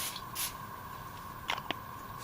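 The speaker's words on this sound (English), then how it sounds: "I'm just going to use foil on the grate and spray it with PAM or" Non-stick cooking spray hisses onto foil laid over a campfire grate in a short burst, then a couple of quick, close spritzes follow.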